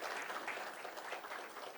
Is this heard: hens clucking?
no